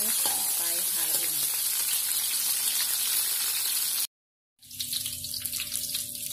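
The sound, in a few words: shallots, lemongrass and curry leaves sautéing in oil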